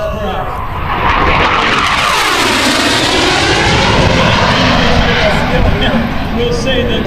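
A Harrier jet makes a high-speed pass at an air show, its engine roar swelling into a loud sweeping whoosh that peaks mid-pass and then fades, while an announcer talks over the noise.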